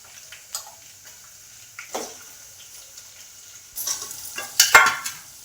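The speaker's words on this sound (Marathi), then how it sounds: "मिक्स करून घेऊ हे सर्व शिजत आहे" Mutton coated with turmeric cooks in a pot while a spoon stirs it, giving quiet gaps broken by a few scraping strokes and short sizzling bursts that grow louder toward the end.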